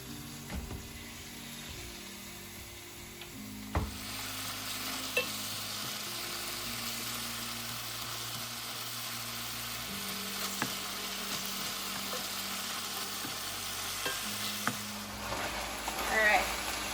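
Ground beef breaks up and fries in a pan for a freezer meal, a steady close sizzle broken by occasional scrapes and taps of the utensil pressing through the meat.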